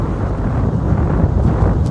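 Steady, loud wind from the sea buffets the microphone at a beach, a low roaring rush with no voices.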